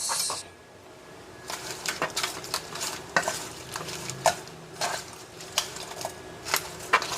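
Shrimp being stirred together with garlic and butter in a bowl, a run of soft scraping and clinking strokes repeating steadily up close with no talking.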